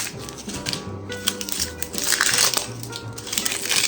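The papery outer skin is peeled back from a whole onion with the root end left on, making close, dry crinkling and crackling rustles in short irregular bursts.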